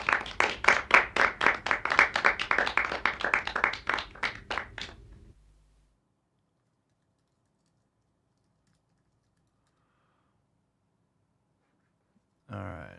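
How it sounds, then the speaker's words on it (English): A quiet golf clap during a podcast: about five seconds of soft, evenly spaced hand claps at a steady quick pace, then a long silence before a voice briefly starts. "a little golf clap"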